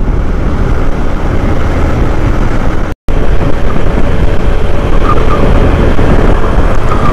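Motorbike ride along an expressway in strong wind, with steady loud wind buffeting and road rumble throughout, broken by a brief dropout near the middle, and no talking.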